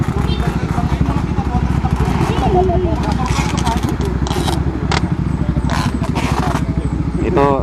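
A motorcycle engine idles and revs up close with a steady, throbbing low rumble running throughout, with some scraping and other noises over it.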